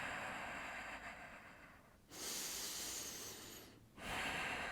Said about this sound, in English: Breathe. Take 3 solid breaths here.